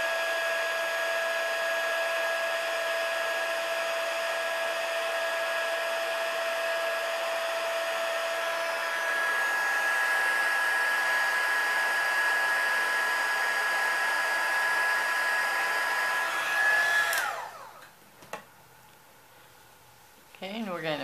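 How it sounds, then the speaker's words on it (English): Heat embossing tool blowing hot air to melt gold embossing powder on a handmade tea light easel card, a steady loud whirring drone that runs about seventeen seconds before switching off and winding down. "but we're going to heat emboss it."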